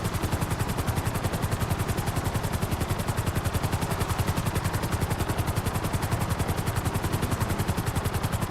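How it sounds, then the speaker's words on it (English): A Sparrow helicopter in the GTA Online video game flies with a fast, steady rotor chop that stays evenly loud and close throughout, with no talk over it. "This helicopter here, Sparrow. This is the fastest helicopter in the game."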